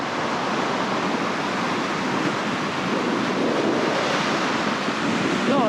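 Strong wind gusting at the coast near Tea Gardens and Hawks Nest, roaring steadily over the microphone, mixed with a broad wash of surf that stays loud and even from start to finish.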